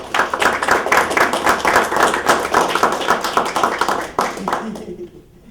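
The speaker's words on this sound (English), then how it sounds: "We'll clap" A small group claps steadily for several seconds, the applause thinning and fading out at the end.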